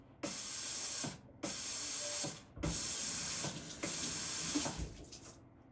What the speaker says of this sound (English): when you push it down, it will automatically pulse 5 times to clean the holes